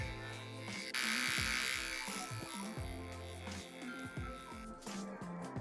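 Veet Ultimate Precision Trimmer buzzing steadily close up as it shaves eyebrows, with a brighter louder stretch of motor whine early on and small pitch shifts as it passes over the brow hairs.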